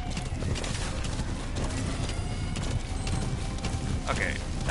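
Hooves of a galloping horse in Metal Gear Solid V: The Phantom Pain clop steadily and fast under busy game noise, with a short whinny near the end.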